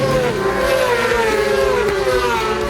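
Racing motorcycles at Oliver's Mount circuit scream past close by, with loud high-revving engine notes that rise and fall in pitch. The sound is continuous and has no talk over it.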